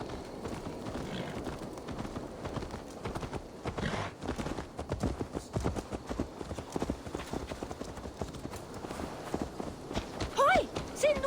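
Horse hooves clip-clop steadily on the ground in the Assassin's Creed Valhalla game at Ravensthorpe, a continuous walking rhythm at moderate volume with faint game ambience and a brief sound near the end.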